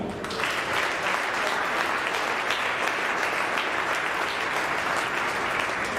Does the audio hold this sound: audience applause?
yes